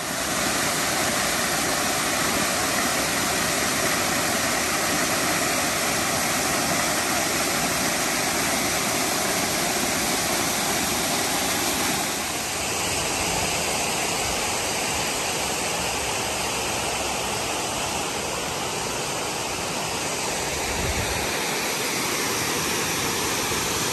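Beaver Brook Falls waterfall on the Appalachian Trail, a loud, continuous broadband rush of falling water heard up close, shifting slightly in tone partway through, with no talking.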